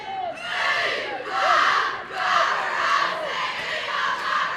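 A school crowd at an All-Ireland B hurling final chants and cheers in loud rhythmic waves, young voices rising and falling in repeated surges.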